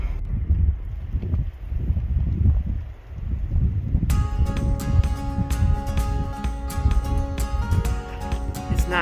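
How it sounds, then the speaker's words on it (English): Strong gusts buffet the microphone on a snowy Pacific Crest Trail mountain section during a snowstorm, a steady roaring rush that persists throughout, with a rattling, flapping texture in the second half. "it's quite windy up here."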